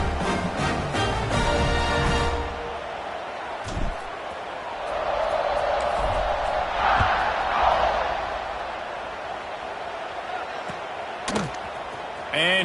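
A football stadium crowd at an Alabama versus Georgia game roars in a broad, sustained wash of cheering that swells mid-clip. A commentator talks over it, and brief sharp thuds and a whistle-like squeal stand out.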